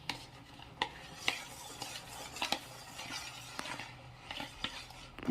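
A rice and potato paste is stirred into melted soap base for homemade herbal soap, with rhythmic scraping and clinking strokes against the pot, fairly close and alone without talk.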